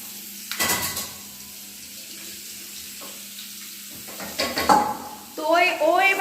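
Potatoes frying in a pan on a gas stove, a quiet steady sizzle broken by a couple of loud stirring scrapes, with running-water-like hiss and clatter near the end; no clear talk.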